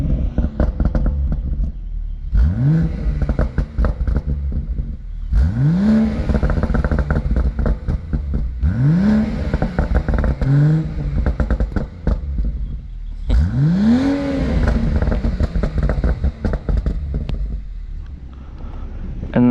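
BMW M140i xDrive launching hard, several repeated bursts of rising engine revs with gear changes between them, loud and close, mixed with heavy wind buffeting.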